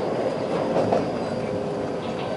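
A train rolls along the rails between Kureha and Toyama with a steady rumbling roar and faint rhythmic clatter, heard from close by inside or beside the carriage.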